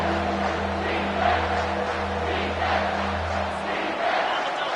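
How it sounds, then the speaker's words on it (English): A stadium crowd roars for the home football defense during a red-zone stand against Texas, a sustained, swelling wall of voices with a low steady hum beneath, surging briefly and holding loud without any commentary. "The crowd getting behind this defense as they try to get a stop in the red zone"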